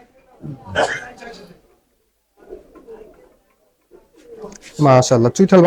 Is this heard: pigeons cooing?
yes